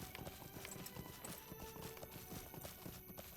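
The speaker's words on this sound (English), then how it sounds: "I just figured we'd just ride the horse there" Steady clip-clop of horse hooves from riding in the online game The Lord of the Rings Online, a quiet, even trot that runs the whole length under a dense, faint background.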